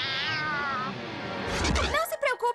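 Cartoon kittens give a high, drawn-out meow, followed by quick, close cartoon voices and playful animated sounds.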